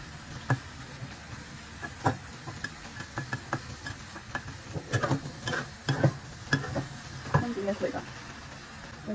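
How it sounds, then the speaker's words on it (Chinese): Chili and garlic sizzle and crackle in hot oil in a wok, with repeated spatula scrapes and knocks as they are stirred, fairly quiet and close. "现在倒辣椒跟大蒜下去炒香"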